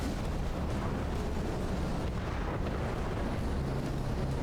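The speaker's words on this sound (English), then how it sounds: "Looks like the torpedoes are actually getting through a bit now." Torpedoes hitting a ship in the video game From The Depths, a constant heavy rumble of explosions and muffled blasts blending into a loud, dense roar without pauses.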